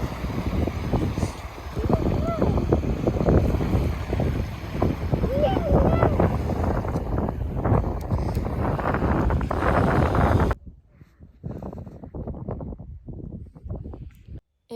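Strong wind on a cold beach buffets the microphone with low roaring gusts and faint surf behind, then cuts to a quieter stretch of lighter wind.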